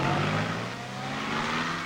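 A small car from 1940s rural Scotland drives off, its engine droning steadily and fairly close as it pulls away, with no voices.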